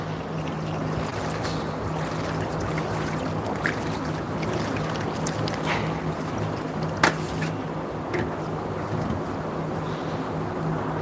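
Strong, stormy wind buffets a microphone outdoors at a goat farm in Gunsan, producing a constant heavy rushing roar with low rumble and occasional gust bumps.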